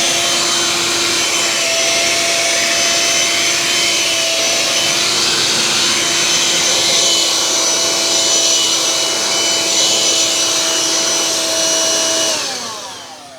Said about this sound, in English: It will act like a vacuum.